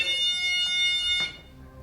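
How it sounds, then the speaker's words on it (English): A shrill, steady electronic beam intruder alarm tone sounds loudly, then cuts off abruptly, leaving quiet background. "if anything breaks that beam, it will set off an alarm, like so"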